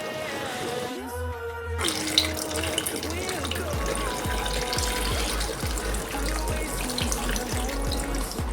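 Water runs from a tap into a pot of Jamaican curry mutton, a steady pouring gush with a low pumping rumble and rhythmic gurgles, with a voice speaking over part of it.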